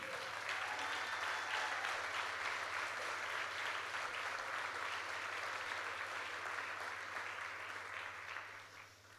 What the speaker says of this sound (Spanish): Yo le estaría dando un aplauso al Señor.